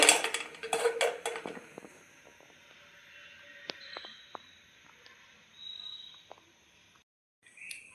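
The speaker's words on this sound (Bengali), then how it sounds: "এখানে কড়াইটা বসিয়ে নেব" A metal wok clatters and clanks a few times as it is set on the stove, followed by quiet scattered taps and a near-silent stretch.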